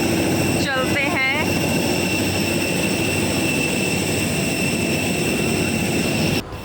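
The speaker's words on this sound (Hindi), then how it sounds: "आपको ये जो शोर सुनाई दे रहा है ये फ़्लाइट का है" Airplane engine noise heard from outside the aircraft while boarding a flight from Ahmedabad to Mumbai, a loud steady jet whine and roar with tonal hum, a brief voice near the start, and a sharp drop at the end.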